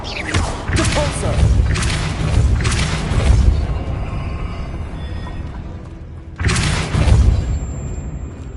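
Spell-casting effects from the Hogwarts Legacy video game, a series of deep booming magical blasts and rumbling thuds, loud and full, with a final burst after a brief lull.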